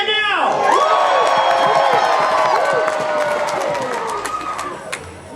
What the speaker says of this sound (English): If you don't really care, you just came here to be entertained, cheer now!